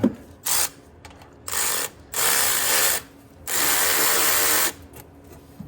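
A ratchet on an extension works an exhaust manifold bolt on a 2013 Chevrolet Equinox, giving four close, loud bursts of rapid clicking separated by short pauses.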